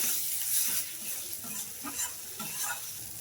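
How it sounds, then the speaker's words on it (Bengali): Spice paste of ground whole garam masala with turmeric sautéed in a pan, a continuous close sizzle broken by repeated stirring scrapes in an uneven rhythm, with no talk. "হলুদটা পিসটা ভালো করে ভালো করে মিশিয়ে কষিয়ে নেব"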